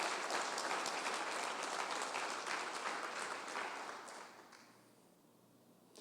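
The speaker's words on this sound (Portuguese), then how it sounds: "Bata as palmas para Ele" Church congregation clapping hands during worship, a dense sustained round of applause that fades out over the last couple of seconds into near quiet.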